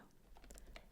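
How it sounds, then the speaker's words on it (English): Soft, quick keyboard clicks patter faintly in a quiet room, a short burst of typing. "if you hear me typing in the background"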